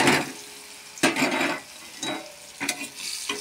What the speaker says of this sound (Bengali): এবার মশলাটা কষিয়ে নেই।